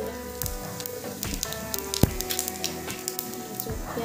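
Cumin and chopped onion sizzling in hot oil in a pan, a close crackling hiss with scattered sharp pops and a soft stirring clack, steady throughout with no voices.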